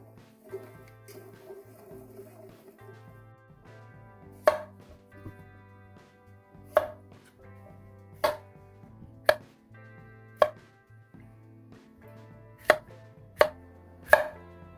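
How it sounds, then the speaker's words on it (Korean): A knife cuts cucumbers into quarters on a board, sharp isolated chops landing at irregular intervals over a quiet kitchen background with a soft low hum, no voices. "물이 끓는 동안 오이를 4등분해서 4쪽으로 칼집을 냅니다."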